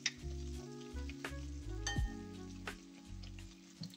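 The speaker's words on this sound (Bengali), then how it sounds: "তো এটাকে আমি ধিমি আঁচ করে দিয়েছি, দিয়ে এটাকে আমি ভেজে নেবো ভালো করে।" Chicken kabiraji fries in oil on low heat, a soft steady sizzle broken by clinks of a utensil against the pan and a low background hum.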